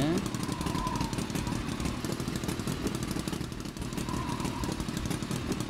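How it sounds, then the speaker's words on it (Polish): A motorcycle in a police simulator video game runs with a continuous, rattling engine chug at a steady pace, while a voice talks over it. "Jakby miał się zaraz rozwalić ten mój motocykl"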